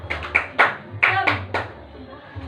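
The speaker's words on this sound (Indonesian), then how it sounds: "Ayo, tepuk semangat." A primary-school class of fourth graders does a rhythmic spirit clap in a classroom: sharp, close hand claps in short uneven groups, with children's voices faintly underneath.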